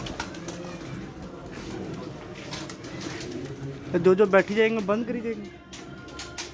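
Pigeons coo in a low, rounded, repeated pattern, loudest for a short burst toward the end, under continuous people talking.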